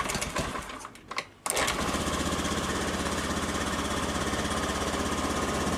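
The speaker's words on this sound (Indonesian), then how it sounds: "Ternyata motor ini menyala Mas Bro. Kalau kita sela, motor ini menyala." A Honda BeAT Street scooter engine catches after a kick start, a brief rough burst then a steady, loud, buzzy idle running continuously close by.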